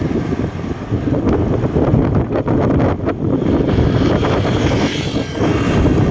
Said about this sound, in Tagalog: Lakas pa rin ang hangin eh.